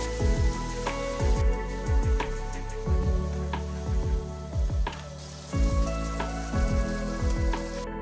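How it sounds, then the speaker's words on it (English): Bacon triangles fry in a preheated pan brushed with oil and butter, a steady close sizzle broken by repeated clacks and scrapes of a utensil turning the pieces. "we'll simply cook them in a preheated pan brushed with a bit of oil and butter"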